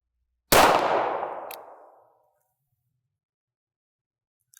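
A single loud gunshot from a .32 H&R Magnum firearm, a sharp crack with a long reverberant tail that fades over about a second and a half, followed by near silence and faint clicks at the end.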